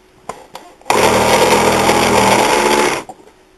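An Aldi cordless floor sweeper with a rotating brush head switches on with a loud, close motorized whir, runs steadily for about two seconds, then cuts off, with a few faint clicks before and after.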